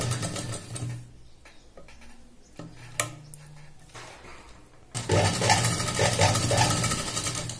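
A sewing machine stitches a dress made from a saree, its needle running in short rhythmic bursts, quieter at first, then a louder, steady mechanical clatter through the final few seconds.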